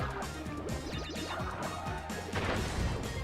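Wooden crates break apart in Crash Bandicoot: Wrath of Cortex, with quick splintering whacks in rapid succession over busy game music, and louder crashes near the end.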